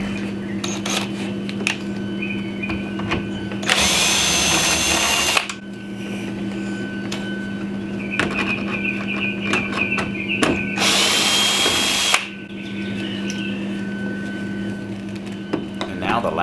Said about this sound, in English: Now we will remove 3 headlight bolts using a 7mm socket.